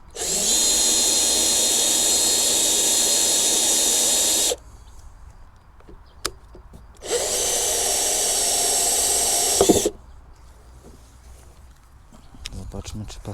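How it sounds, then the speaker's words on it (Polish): A power drill with a 25 mm bit bores into a plastic water barrel in a vegetable garden, two loud sustained whining bursts of about four and three seconds separated by quieter pauses. "Wiertło 25 mm i można wiercić."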